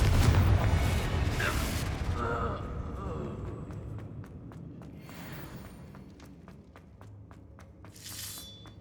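Fiery spell blasts burst in the Hogwarts Legacy game, a loud boom with crackling debris at the start, followed by rumbling, scattered impacts and another burst near the end; a voice calls out over it.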